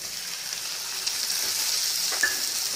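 Tomatoes sizzle steadily in a kadai with ginger and garlic for kothu parotta, giving a dense, even frying hiss with no voices.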